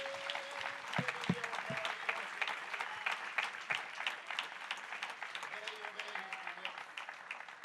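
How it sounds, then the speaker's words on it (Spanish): A church congregation claps together in a steady, fairly faint wave of applause that carries on throughout, with sharp individual claps standing out over the crowd. "Parece que alguien quiere dar un aplauso."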